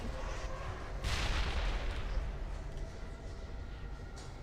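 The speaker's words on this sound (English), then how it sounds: "We're just gonna spam grenades in there and hope." Grenades go off in the Mass Effect video game as a heavy, rumbling boom that swells after a second and rolls on with continuous battle noise, fairly loud and with no talk over it.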